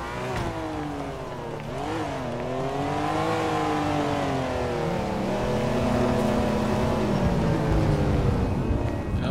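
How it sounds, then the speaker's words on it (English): Car engines in the video game GTA 5 drone and rev steadily as traffic passes, a continuous loud rumble with rising and falling pitch and no talking. "All this traffic coming through here."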